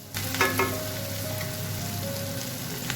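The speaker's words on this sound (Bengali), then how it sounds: "টমেটো কুচিটা দিয়ে 1 মিনিটের মতো আমি সবজিটা ফ্রাই করে নেব" Chopped vegetables and tomato sizzling in a pan for sabudana khichdi, with a steady close fry hiss and a few clinks of stirring near the start.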